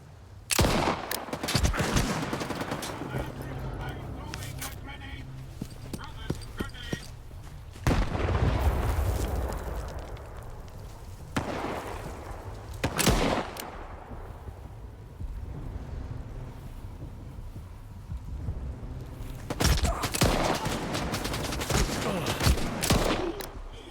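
Gunfire in a video game, with several loud bursts of shots separated by quieter stretches of lower-level noise, sounding close and heavy.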